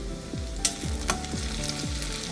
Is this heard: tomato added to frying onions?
yes